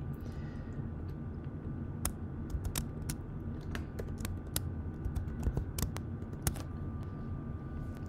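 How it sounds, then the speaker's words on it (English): Typing on a computer keyboard, a steady run of sharp key clicks with a few louder taps, heard close up over faint background hum with no talking. "I'll type in the formula."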